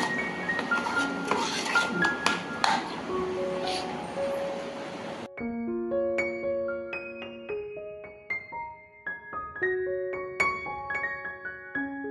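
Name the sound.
stirring puran mixture in a pan on the gas stove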